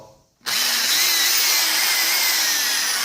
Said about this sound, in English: I got the all-in-one deal on this hole saw.